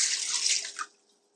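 A short splashing pour of 2.5 cups of water into a container for pickling brine, loud at first and tapering off to quiet within about a second.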